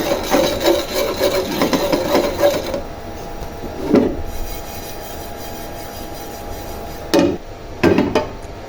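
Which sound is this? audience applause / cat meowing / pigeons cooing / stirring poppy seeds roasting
stirring poppy seeds roasting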